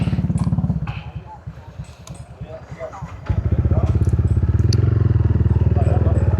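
A motorcycle engine idles and revs on the way to Curug Larangan waterfall near Pelabuhan Ratu, its pulsing putter dipping and then returning loud and close, with a voice speaking over it.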